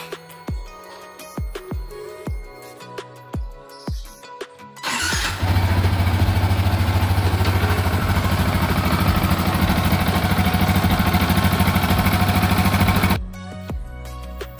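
A motorcycle idles while warming up for an engine oil check: a few rhythmic cranking attempts, then the engine catches and runs at a steady, loud, close idle for several seconds before cutting off.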